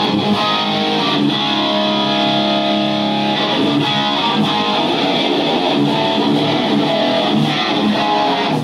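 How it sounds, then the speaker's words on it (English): A heavily distorted electric guitar rings out with sustained, gritty chords, thick and buzzing, played alone at a loud level. "here's my distortion tone"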